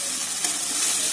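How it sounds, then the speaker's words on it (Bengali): Ginger and garlic paste frying in a pan after ground onion paste, a steady close hiss of sizzling oil with a faint stirring scrape, no voices. "আদা রসুনটা একটু ভেজে নেবো আগে,"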